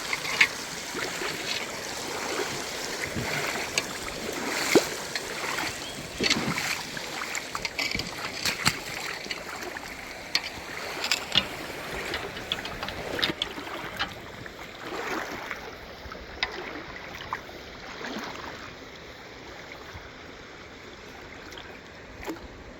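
A creek in Pickens burbles and trickles steadily over rocks, a continuous outdoor flow with some irregular splashy bursts, no talking.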